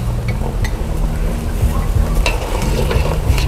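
Minced garlic frying and being stirred in a hot pan for a Vietnamese home-cooked dish, a steady close sizzle with scraping stir strokes throughout and no talk.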